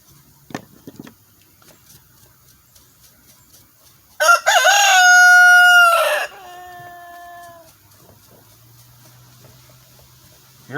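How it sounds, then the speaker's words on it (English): A rooster gives one loud, close cock-a-doodle-doo, its strained call stretching about three seconds, after a few faint clucks and soft background noises in an otherwise quiet setting. "Here comes the rooster."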